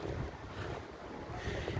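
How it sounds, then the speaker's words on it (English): Strong monsoon wind gusts roar and buffet the microphone outdoors beside a primary health center in Ooty, where many trees have fallen, a steady rushing noise with no talk. "Hope you can see it's really windy."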